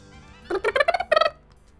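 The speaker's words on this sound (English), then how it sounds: "that is the beginning of Woody Woodpecker's laugh, isn't it?" A Paper Mario video game sound effect resembling Woody Woodpecker's laugh plays as a rapid run of bright, chattering, staccato notes, rising and pulsing in about six quick bursts, with no talk over it.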